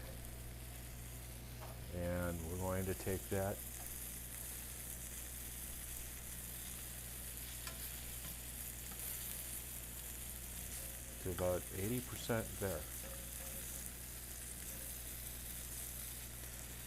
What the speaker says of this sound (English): And I only used enough oil to brown the chicken.